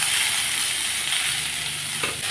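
Potatoes, pointed gourd, eggplant and three green chillies fry and get stirred in a pan, giving a steady, close sizzle throughout with a brief clatter of stirring near the end.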